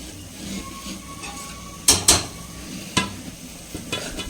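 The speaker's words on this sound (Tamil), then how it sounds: "சோயா வந்து சேர்த்துக்கிறேன்." Soya chunks tipped into a pan and stirred while cooking a soybean roast, with a steady low sizzle and several sharp scraping, clattering stirs.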